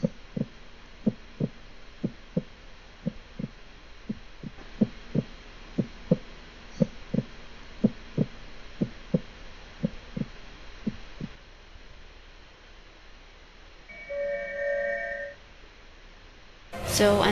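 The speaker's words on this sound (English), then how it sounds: "The heartbeat of this device can be felt by you all." A device gives off a steady heartbeat-like pulse, regular soft thumps about twice a second over a low hum, stopping partway through as a brief tonal beep and other sounds follow.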